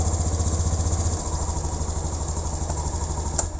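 Motorcycle engine idling close by just after a cold start on a newly fitted battery, a steady rapid putter that drops slightly in pitch after about a second and runs on alone.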